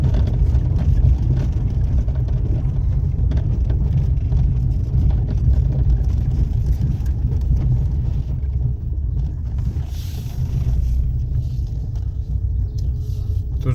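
A 2007 Chery QQ small car runs with a steady low engine drone and rumble, heard from inside as it drives, loud and constant with some wind buffeting.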